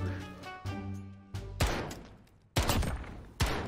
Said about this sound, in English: I literally went in behind and just shot them both.